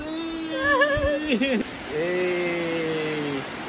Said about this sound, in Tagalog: sinabutan na kami ng ulan dito guys